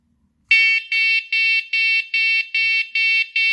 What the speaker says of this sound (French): 4 bips sonores pour vous prévenir que vous êtes en mode alarme